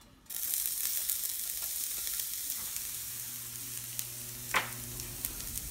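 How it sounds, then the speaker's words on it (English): Garlic sautés in pure olive oil, starting with a sudden hiss as it hits the pan and settling into a continuous close sizzle with occasional light pops, and no one speaking. "We want to saute the garlic till"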